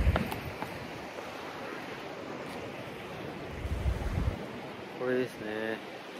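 Ocean surf on the Amaharashi coast, a steady broadband wash of waves with gusts of wind buffeting the microphone, a few louder surges swelling near the end.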